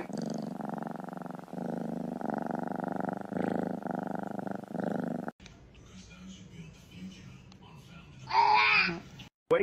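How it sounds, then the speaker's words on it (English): A loud, steady cat purr rumbles close up for several seconds, followed by quieter rustling and a short sharp squeal. "listen to that purr"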